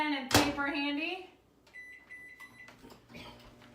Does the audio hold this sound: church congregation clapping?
no